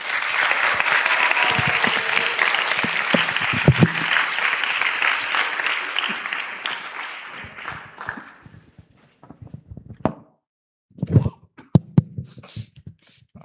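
A church congregation at an outreach thanksgiving service applauds loudly and steadily for about eight seconds, the clapping then thinning out into scattered claps, shuffling and a few isolated sounds.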